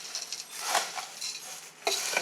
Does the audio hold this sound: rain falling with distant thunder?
no